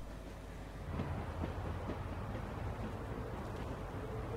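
A moving train in the video game The Walking Dead rumbles steadily with a deep low drone and faint rhythmic rail clatter, quiet and continuous throughout.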